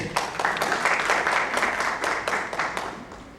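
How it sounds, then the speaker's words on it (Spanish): Steady audience applause fills a medical conference hall in Lima, dense and sustained with many hands clapping at once, loud and close throughout. "Un fuerte aplauso, por favor."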